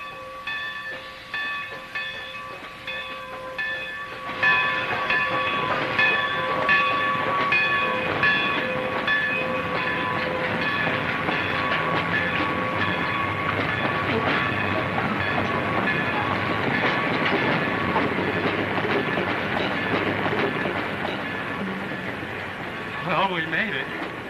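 A train passes close by with a long rolling clatter of wheels on rails and sustained tonal horn or whistle notes, building after a quieter opening as people speak intermittently underneath.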